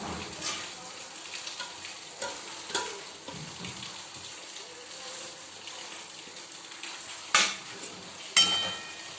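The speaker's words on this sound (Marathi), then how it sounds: "रवा टाकून झालेला आहे त्याला छान असं हलवायचं" A spoon scrapes and stirs semolina into boiling water in a pot for upma, with soft bubbling and a light sizzle, punctuated by a couple of sharp metallic clinks.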